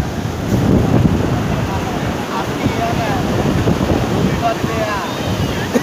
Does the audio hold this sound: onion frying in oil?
no